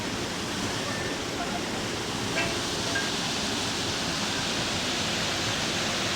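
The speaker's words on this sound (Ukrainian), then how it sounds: "Ось такий великий водоспад." Kamianka waterfall in the Skole Beskydy national park in the Carpathians roars as a constant, dense broadband rush of falling water, steady and close throughout.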